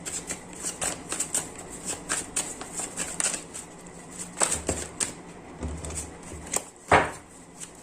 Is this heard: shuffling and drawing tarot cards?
yes